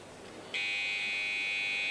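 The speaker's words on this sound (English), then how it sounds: "he was just waiting there for the 30-second buzzer to go before starting" A loud, steady electronic buzzer sounds at a 1999 European weightlifting competition, 62 kg class, starting abruptly after a quiet arena murmur and holding a continuous high tone to the end.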